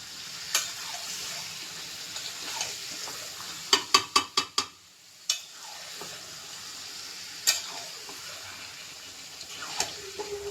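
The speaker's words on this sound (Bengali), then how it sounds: "তাহলে ভালো করে মাংসটা ভাজবো।" Chicken meat fries in a pan with a steady soft sizzle, broken by a quick run of sharp scraping clicks as it is stirred, plus a few scattered utensil taps, all close and moderately quiet.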